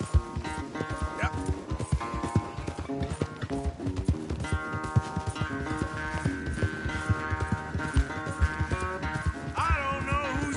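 Rapid clip-clop of galloping horse hooves during a race in the video game Red Dead Redemption 2, a steady rhythmic patter running under continuous game music.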